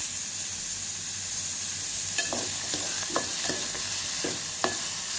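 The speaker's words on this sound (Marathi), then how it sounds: "त्याला आपण आता चांगलं असं परतून घेऊया." Onion with turmeric sautés in a pan for tomato chutney, a steady hissing sizzle broken by several sharp spoon scrapes and taps against the pan.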